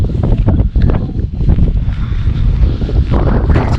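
Strong storm wind buffets and roars against a two-person Night Cat tent pitched without guy lines at a wild camp, a loud, continuous low rumble with gusty surges and flapping fabric, close to the microphone, with no voices.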